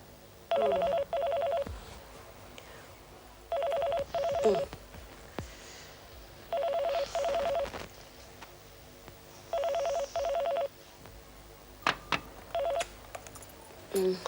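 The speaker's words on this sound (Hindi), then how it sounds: "रात गए, कौन फोन कर रहा होगा?" A telephone rings in four evenly spaced double bursts, loud and close, followed by a few short electronic beeps; no talking.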